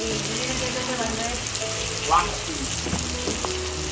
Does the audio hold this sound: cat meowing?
no